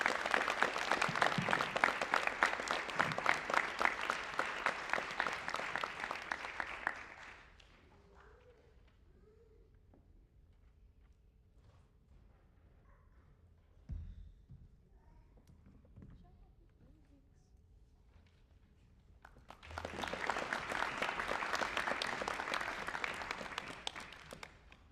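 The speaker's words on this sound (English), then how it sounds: "Please give a round of applause for Paige Vicky." Audience applause at a high school National Honor Society induction ceremony, a loud sustained clapping burst for about seven seconds, then a quieter stretch with faint room noise, before a second full round of clapping swells back near the end.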